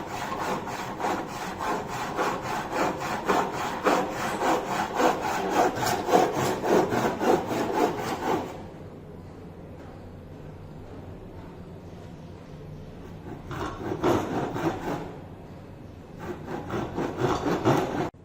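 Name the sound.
hand saw cutting wood workpiece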